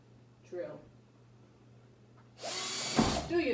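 A power drill used while installing a light fixture spins up loudly near the end after a quiet pause. Someone speaks briefly before it starts.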